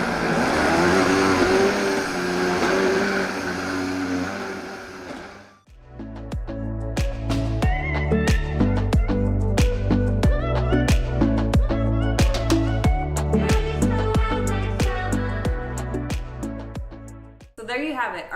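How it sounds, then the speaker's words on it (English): A high-speed blender whirs loudly through a vegan green protein smoothie with a dense, steady motor roar for about five seconds, then cuts off abruptly as rhythmic background music takes over. "This thing could blend through gravel and make it taste delicious."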